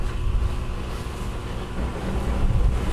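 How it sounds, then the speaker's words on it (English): Wind buffets the microphone outdoors beside a pig rotisserie, a steady low rumble with gusty swells and no voices. "With the wind, it kind of messes us up."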